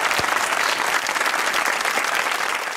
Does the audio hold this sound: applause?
yes